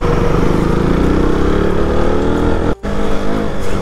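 A Royal Enfield Continental GT 650, a tall and heavy motorcycle, rides off-road with a loud, steady engine drone close by, cut by a brief drop in sound near the end before the engine picks up again.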